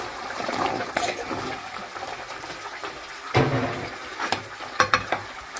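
Diced potatoes tumble into a pan of frying kofta, giving a soft scrape and stir with a light sizzle, then a few louder clatters and thumps near the end.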